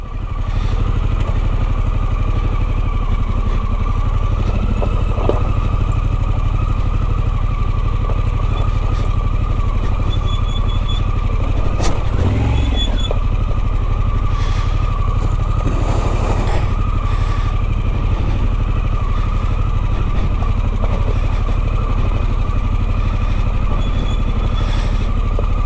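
A Harley-Davidson Pan America motorcycle rides off-road, a loud, constant engine drone with deep low rumble close to the rider, with wind, gravel clatter and a few knocks from the terrain.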